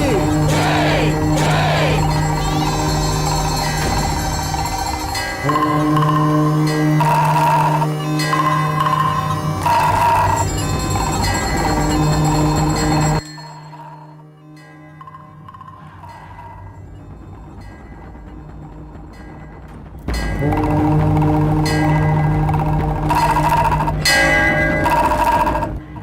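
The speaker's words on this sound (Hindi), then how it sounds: "घंटी और नगाड़ा बजाओ।" Loud, dense clanging of temple bells with steady nagada drum beats during Hindu worship, continuous and close, dropping away briefly midway before the ringing and drumming resume at full strength.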